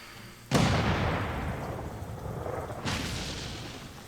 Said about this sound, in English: Last round of attacks, fire the cannons.